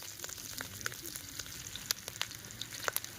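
Duck larb stir-frying in oil, a steady close sizzle with scattered sharp pops and crackles of spatula stirring throughout.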